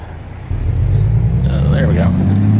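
Freightliner Coronado truck engine in American Truck Simulator, a low, steady idling rumble that swells slightly louder after a moment and keeps running, with brief chatter in a voice over it.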